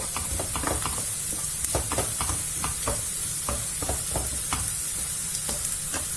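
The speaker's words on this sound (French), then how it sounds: "Je vais mettre une toute petite pincée de sel juste pour faire suer les échalotes rapidement." Shallots sweating in a pan with a small pinch of salt give a steady sizzle, while a utensil scrapes and stirs them in short, regular strokes, close and alone with no voices.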